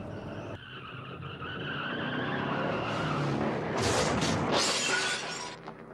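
A car slams into a barrier in a crash test, its front end crumpling, with a loud sustained crunch of deforming metal and shattering parts that swells over several seconds and tails off.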